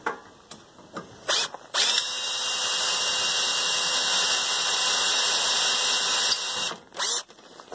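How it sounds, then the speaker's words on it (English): A drill at its lowest speed grinds steadily into steel under hard pressure with a high, harsh whine that holds for several seconds, starting and stopping briefly at each end. "the lowest speed this drill has, and I'm trying to push hard."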